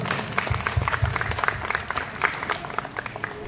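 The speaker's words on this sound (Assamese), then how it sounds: "এটা ডাঙৰ হাত চাপৰি বাইদেউৰ কাৰণে" Audience applause for a woman who won third prize in the sweet dish category of a cooking contest at the Guwahati Literature Festival, with steady, moderately loud clapping throughout and rhythmic claps standing out near the start.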